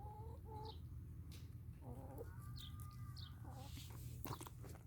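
Several chickens in a coop with sawdust litter cluck in short bursts over a steady low hum, with occasional higher calls; fairly quiet and continuous, no talking.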